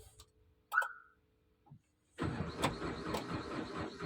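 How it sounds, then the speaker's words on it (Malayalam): A car on a diagnostic scan tool is cranked, with a few faint clicks and electronic beeps before the starter kicks in, followed by a steady churning crank-and-run rumble close by. "നമുക്കിനി ജസ്റ്റ് ഒന്ന് ക്രാങ്ക് ചെയ്ത് നോക്കാം"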